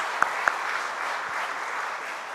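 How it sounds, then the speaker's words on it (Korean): A church congregation applauds together in a steady, sustained burst of clapping, with a couple of sharper claps standing out near the start, filling the room without voices. "너무 감사해서 오늘 먼저 하나님께 영광의 박수."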